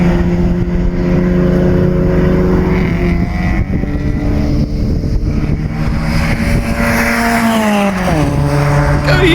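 A Toyota AE101 Levin race car with a 4AGZE engine is driven hard on a circuit during a sprint event. The engine drones loud and steady from close by, with pitch shifts between gears.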